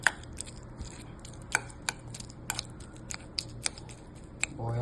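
A spoon mashes a mackerel croquette mixture in a bowl, giving sharp, irregular taps and clicks against the dish, spaced out over a low steady background hum, close and moderately quiet.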